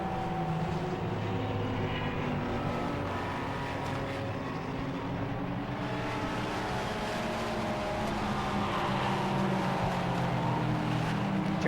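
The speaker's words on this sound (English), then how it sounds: "Fourth behind them is the white Praga of Alex Capadia." Race cars, including a white Praga, roar around a BARC circuit in 2021, a steady, loud wash of engine and road noise lasting throughout with no gaps.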